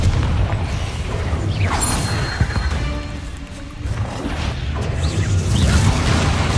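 A Confringo blast spell fires in Hogwarts Legacy, giving booming impacts, crashes and whooshing bursts over a busy game soundscape, with one sharp hit standing out midway.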